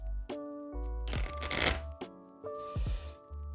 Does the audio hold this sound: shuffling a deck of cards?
yes